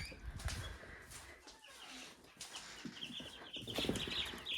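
Chickens on a hobby farm cluck and chatter softly at close range, with rustling and a brief wing flutter. No one speaks.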